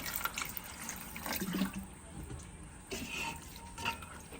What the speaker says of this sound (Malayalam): ഇനി നമ്മുടെ ചിക്കൻ വേകാൻ വേണ്ടിയിട്ട് ആവശ്യമുള്ള വെള്ളം, കുറച്ച് വെള്ളം നമ്മൾ ഒഴിച്ചു കൊടുക്കുകയാണ്.